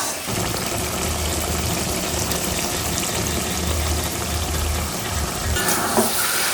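Mango pickle is stirred in a pan with roasted, ground dry spices, giving a continuous close sizzle with scraping and shuffling of the mixture and no talking.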